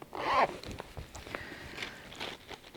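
A zipper is pulled once in a quick, loud rasp at the start, followed by soft handling and rustling sounds.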